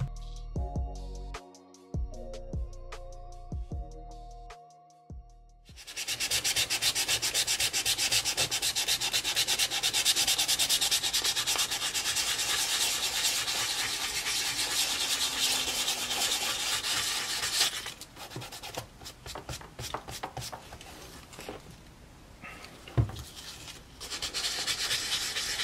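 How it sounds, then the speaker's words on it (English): Close, continuous abrasive rubbing and scratching as sandpaper works back and forth over rough leather on a Nike Air Force 1 sneaker, with a few small taps and knocks, no voices. "I was basically sanding down the really rough patches of the leather"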